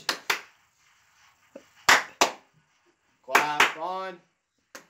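Sharp hand claps come in three quick pairs, spaced apart, aimed at switching on a sound-activated clapper lamp; a voice speaks briefly right after the last pair.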